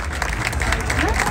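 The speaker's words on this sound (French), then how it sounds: "un tonnerre d'applaudissements pour les écologistes, pour les organisateurs de cette manif" A crowd at a street demonstration against racism and fascism bursts into brief, dense applause, with voices mixed into the clapping.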